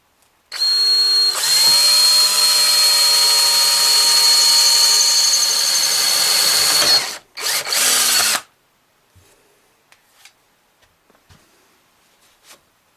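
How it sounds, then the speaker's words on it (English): Drill press whining as it bores a small hole in the handle of a chuck key, a loud, steady high motor tone for several seconds, a short second burst, then quiet with a few faint clicks. "And I just drilled a little hole in the handle"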